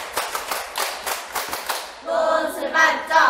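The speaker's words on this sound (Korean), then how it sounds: "박수 10번 치고" Lecture-hall students clap in unison ten quick, evenly spaced times, and a voice then starts speaking right after.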